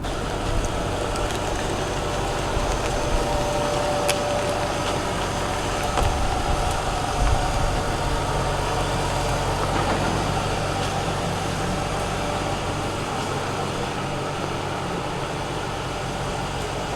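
A car's engine idles steadily and close by after being delivered off a trailer, a constant low rumble with a faint whine that runs unbroken throughout. There are occasional small clicks, and no voices.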